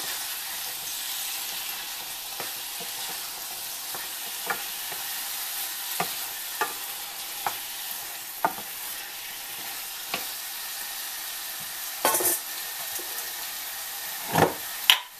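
Canned chickpeas, drained and thoroughly rinsed, are stirred in a frying pan for channa masala: a steady close sizzle with regular scraping clicks of the spoon and a couple of louder knocks near the end.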